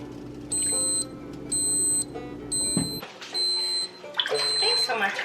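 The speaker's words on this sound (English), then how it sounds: "my timer's going off" A kitchen timer goes off during fresh mozzarella making with raw goat's milk, sounding three bursts of rapid electronic beeps. Then a person starts talking as more beeping continues faintly underneath.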